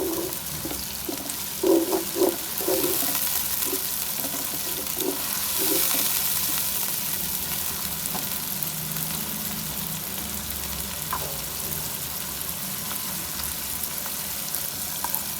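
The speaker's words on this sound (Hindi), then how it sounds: "ये देखिए हल्की सी प्याज को फ्राई करा है हमने।" Onions sizzling lightly in a pan before garlic and ginger go in, a soft continuous hiss with a few clanks of stirring early on, steady and moderately quiet without talk.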